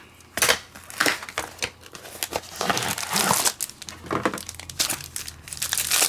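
A tape-sealed package being opened up close, with rapid bursts of crinkling, crackling and tearing that come in irregular clusters throughout.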